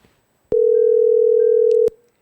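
A telephone line tone plays while a call connects during a church counseling broadcast. It is one steady, loud electronic tone lasting a bit over a second, alone with no voices.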